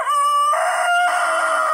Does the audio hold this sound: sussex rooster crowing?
yes